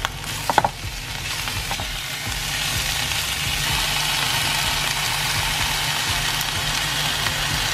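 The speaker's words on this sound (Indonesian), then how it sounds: "Ini sayurannya kita tumis dulu. Dagingnya juga" Vegetables and meat stir-fry in a hot pan in a Korean-style jajang dish setting, giving a steady, even sizzle with low rumbling underneath, after a few brief clatters near the start.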